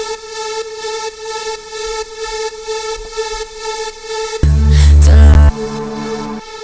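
Airy synth sample drenched in reverb and delay: sustained tonal layers with a pulsing, washing rhythm, then a loud, dense burst with deep low tones for about a second before the pad continues.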